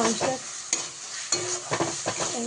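Spice masala for chicken curry frying in oil until the oil separates, a close sizzle broken by a few quick stirring scrapes against the pan.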